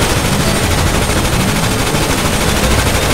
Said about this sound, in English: He jumped, shooting the barrel here.